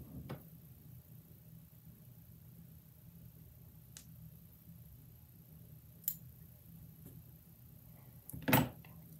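Scissors snip UV and freckled gold fly-tying strands at a quiet bench, a few faint sharp clicks spaced apart with a louder snip near the end.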